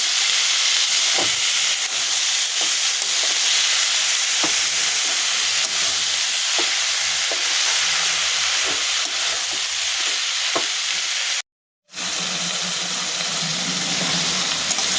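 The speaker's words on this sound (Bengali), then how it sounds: "মোচাটা দিয়ে আমি ভালো করে একটু নাড়াচাড়া করে নেব।" Boiled banana flower is stirred and fried in a pan with spices: a loud, continuous hissing sizzle with repeated spoon scrapes and taps, interrupted by a brief cut to silence before the frying resumes.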